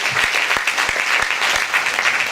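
An audience at an eloquence contest applauds the eight finalists, a dense, steady wash of clapping with a few sharper individual claps standing out, continuous and fairly loud.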